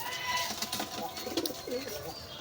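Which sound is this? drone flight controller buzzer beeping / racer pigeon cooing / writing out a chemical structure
racer pigeon cooing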